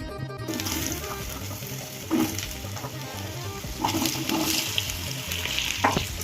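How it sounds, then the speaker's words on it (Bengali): Potatoes dropped into hot oil with cumin seeds in a wok for a tangra fish curry, giving a steady broad sizzle with a few louder bursts as pieces go in and get stirred. "এবার কড়াইয়ের মধ্যে একে একে ছেড়ে দেবো আলুগুলো"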